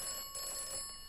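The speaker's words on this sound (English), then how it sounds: "Alright, let's answer the phone." Telephone ringing in the video game Atomfall, a steady electronic ring with sustained tones and a brief break, moderately quiet and heard alone.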